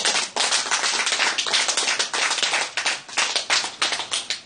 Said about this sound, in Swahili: Hebu tupigie Bwana makofi.